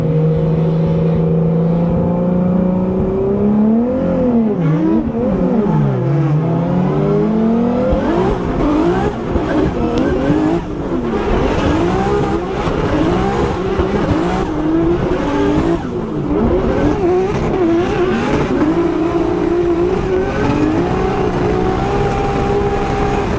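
A Formula Drift car at the St. Louis 2025 round revs hard and holds throttle through a drift run, its engine wailing and tires squealing continuously, loud and close throughout.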